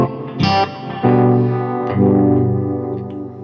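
An electric guitar runs through a Strymon Blue Sky reverb set on 8 and a Timeline delay pedal set on 7, with three loud strummed chords whose tails ring out and echo into a long, slowly fading wash.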